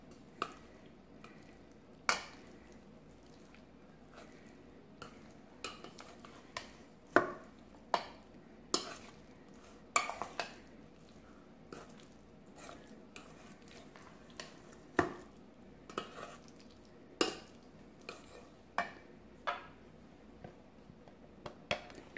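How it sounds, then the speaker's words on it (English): Egg salad being stirred with squirted mustard in a bowl, heard as a steady run of soft, close scraping and tapping clicks from the utensil against the bowl, quiet and unaccompanied by any voice. "Put a few good squirts in there. And then try to mix it up."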